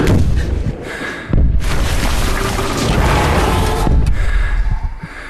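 A huge film explosion from The Hurt Locker, shown in extreme slow motion, hits as a loud, sustained roaring blast with deep rumble, breaking off briefly before a second long surge of roaring debris noise.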